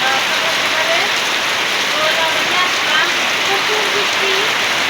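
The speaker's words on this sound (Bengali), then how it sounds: "এই দেখেন বন্ধুরা প্রচুর বৃষ্টি হইতেছে আমাদের এখানে" Heavy morning rain pours down steadily in a village, a dense continuous hiss of drops on surfaces with faint distant voices or birds barely audible underneath.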